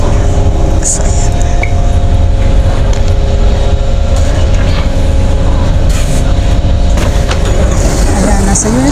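Steady, loud rumble and hum inside a Singapore MRT station, with a train's low drone and rail noise running throughout, plus faint squeals and chatter in the background.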